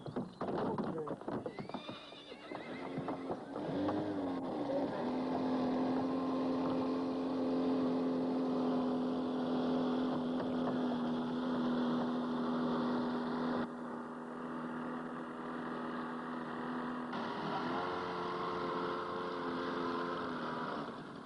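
A local ferry on the Karoon River carries stallions across three at a time. Horses whinny and hooves clop on the deck over a long, steady engine drone, with people's voices nearby.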